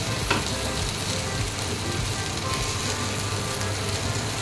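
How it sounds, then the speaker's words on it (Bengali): Around 500 grams of chicken sizzles loudly as it fries in oil that has separated, a steady dense crackle and hiss filling the whole stretch, with a few stirring scrapes. "তাই আমি এর মধ্যে এবার দিয়ে দিলাম আমার চিকেনগুলো"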